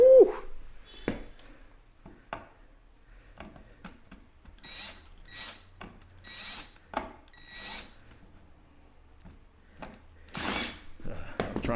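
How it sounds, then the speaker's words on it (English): Power drill with a drywall screwdriver bit driving a screw into a pantry closet door frame, several short whirring bursts with pauses between, close and fairly loud. "I'm trying to use a drywall screwdriver bit, and of course, this is sunken in, it won't get all the way down in there"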